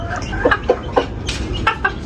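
A chicken on a poultry farm gives a series of short, close clucks in an irregular rhythm, heard clearly with no one talking.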